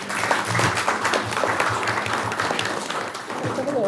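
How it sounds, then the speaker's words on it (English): A round of applause fills a council chamber during a meeting, with steady, dense clapping from many people that holds at an even level for several seconds. Faint voices are heard underneath. "a round of applause is needed for them"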